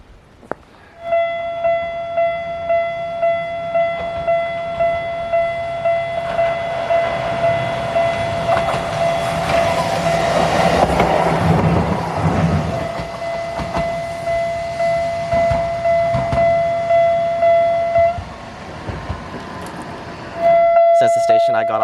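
A train approaches a tree-lined grade crossing near a station in Osaka while the crossing signal rings in steady, evenly spaced chimes; a heavy rail rumble builds to a loud peak midway, then the ringing carries on and briefly restarts.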